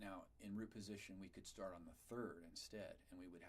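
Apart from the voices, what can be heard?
None of the usual background noises is heard.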